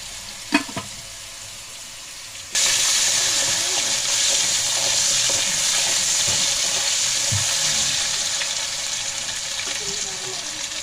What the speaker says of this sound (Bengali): সুন্দর করে আলুগুলো ভেজে নেব।